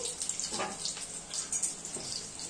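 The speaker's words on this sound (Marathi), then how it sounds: "एक तांब्या भरून पाणी घेऊया पाव किलो रव्यासाठी" Water splashes and pours in a few quiet bursts, close but faint, tipped from a pot into a pan for rava upma.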